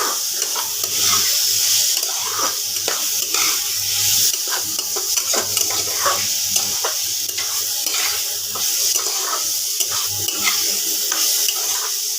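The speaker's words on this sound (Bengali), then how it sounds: "বন্ধুরা জল দিয়ে দেবো।" Water goes into a pan of frying potato and pointed gourd, raising a steady hiss and bubbling, with clinking stirs and sharp scrapes scattered throughout.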